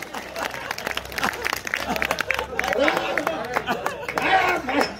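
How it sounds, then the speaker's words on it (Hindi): Hindi poetry recital audience clapping, a dense crowd patter rising and swelling through the whole stretch under scattered voices and crowd chatter. "उठाओ दोनों हाथ, बजाओ तालियां"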